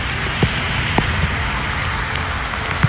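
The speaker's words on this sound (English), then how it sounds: "The rain is coming down." Rain falling steadily during a cross-country bike tour in Ohio, a constant close-up patter and hiss with a few louder drops or knocks and no talking.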